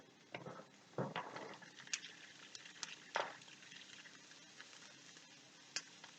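Spring onions and peppers fry quietly in a pan, a faint soft sizzle broken by scattered crackles and a few scraping stir sounds.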